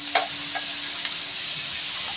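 Garlic frying in oil in a pan for Filipino fried rice, a steady bright sizzle throughout with a few soft stirring scrapes, close and continuous with no talking.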